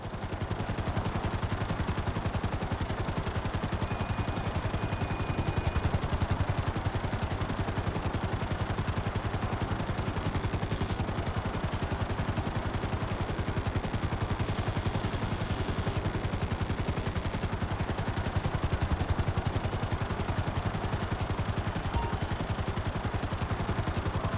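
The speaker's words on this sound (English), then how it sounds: "Hover above so I can shoot down into it." Steady, dense automatic gunfire from a helicopter in GTA 5, a continuous rattling roar under rotor noise with no pauses, loud and close throughout, no talking.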